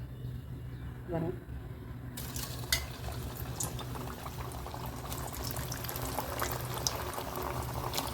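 Carrot vadas dropped into hot oil and deep frying, a steady broadband sizzle that jumps up sharply as they go in and then bubbles on continuously, close and fairly loud.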